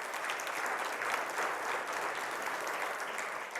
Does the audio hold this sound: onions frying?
no